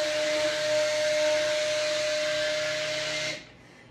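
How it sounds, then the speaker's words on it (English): A stick blender runs steadily through cold process soap batter, giving a loud whirring whine with a steady pitched tone for about three seconds before it cuts off abruptly into quiet. "what we're doing now is stirring and stick blending"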